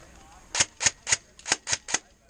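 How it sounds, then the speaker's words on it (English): Seven sharp snapping shots from an ACR airsoft rifle firing blanks pop in an uneven sequence, close by and crisp, with quiet background between them. "you can tell when it's firing a blank. It sounds a little different"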